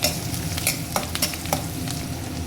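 Bay leaf and chopped onion frying in hot oil for a crab gravy, a steady close sizzle with scattered crackles and spoon stirring scrapes throughout.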